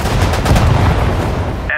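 Infantry gunfire in the WWII strategy game Sudden Strike 4, set at the 1940 Battle of Lille near Dunkirk: a loud, dense rattle of rifle and machine-gun shots, continuous and close, ending with a brief tonal interface blip.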